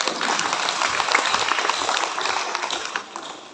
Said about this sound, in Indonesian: Kita tepuk tangan untuk Yesus yang telah naik.